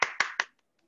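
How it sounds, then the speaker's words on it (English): A few hand claps at a coders' meetup on regular expressions in Python, three sharp evenly spaced claps close by, then silence. "Big round of applause."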